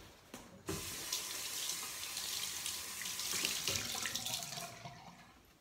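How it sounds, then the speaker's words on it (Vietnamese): Tap water runs steadily into a sink as a face is washed, a continuous close splashing rush with small shifts in flow and no talk. "Thì bây giờ mình sẽ rửa mặt."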